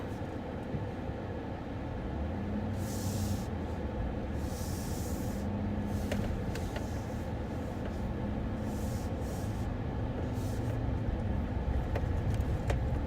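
A 2018 Chevy drives up a bumpy, one-lane hill road, giving a steady, loud interior road and engine rumble with broadband hiss and occasional faint rattles and knocks throughout, no talking.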